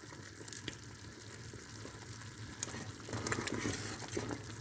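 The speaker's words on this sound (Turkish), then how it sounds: "Şimdi biraz daha kaynasın." Damson plum jam bubbles and sizzles steadily in a pot, a soft continuous crackle that grows a little louder toward the end, with no voices.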